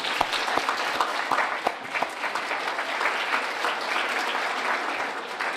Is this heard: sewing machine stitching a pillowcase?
no